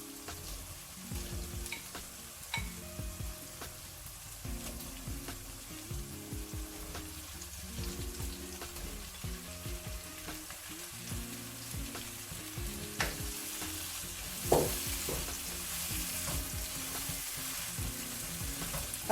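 Prawns, about 400 grams, sizzle steadily as they fry in masala, with repeated stirring scrapes and utensil knocks over a continuous close hiss, no talking.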